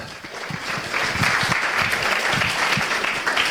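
An audience at an eloquence contest in Pau claps steadily in a dense, even patter of applause that holds at full strength throughout, with no voices standing out.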